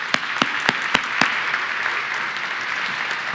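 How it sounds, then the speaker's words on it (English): Audience applause at a steel works groundbreaking ceremony, a crowd clapping steadily throughout with a few sharp, close claps standing out near the start. "So let's give yourselves a round of applause."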